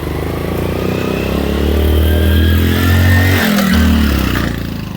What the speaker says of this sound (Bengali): এই দেখুন বন্ধুরা, বাইকে করে যাচ্ছে